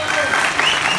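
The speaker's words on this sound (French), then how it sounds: "Je voudrais qu'on applaudisse très fort Lionel." An audience at a hypnosis stage show claps loudly for a participant, a dense burst of applause with faint voices mixed in, close and sustained for a moment.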